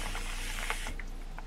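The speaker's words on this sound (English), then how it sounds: "I'm gonna give it a light spray, not too much again, a light mist," A light mist sprayed onto curly hair gives a soft, steady hiss for about a second, close and quiet, then fades.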